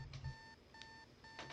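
An alarm clock rings inside the Doki Doki Literature Club Relapse mod, giving three evenly spaced bursts of bright electronic beeping over a low game hum, with no talking.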